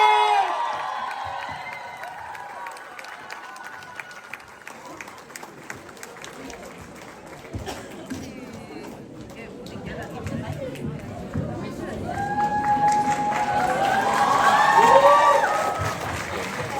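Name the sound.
audience round of applause at event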